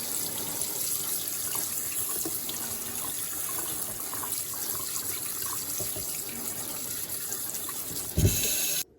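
Tap water runs steadily into a sink to rinse canned SpaghettiOs pasta, a constant close-up rush that ends with a brief louder clunk just before it stops.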